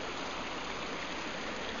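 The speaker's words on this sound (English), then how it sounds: "this is the beautiful little stream that Nicky wrote about in his poem about the" Andreas Creek, a small stream among palms in Indian Canyons, flows in a steady, even rush of water, close and fairly loud with no voices.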